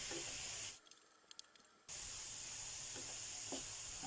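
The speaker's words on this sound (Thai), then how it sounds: "ผมก็จะใส่เห็ดหอมสดลงไปผัดด้วย" Fresh shiitake mushrooms stir-fried with ginger in a pan for a vegetarian soup, a steady close sizzle that drops away briefly for about a second and then returns at full strength.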